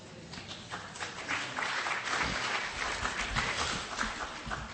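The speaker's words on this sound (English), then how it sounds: "Is it traditional to clap?" An audience claps together after a Buddhist Dharma talk, a dense, steady round of applause in a hall that swells slightly and continues throughout without speech.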